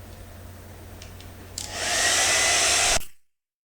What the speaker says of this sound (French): donc on va commencer le brushing